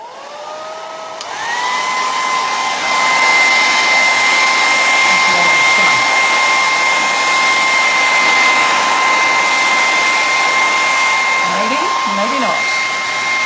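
A hair dryer blows on watered-down turquoise paint on a coastal-style stencil craft, switching on after a second and holding a loud, steady whining roar with a constant high-pitched tone.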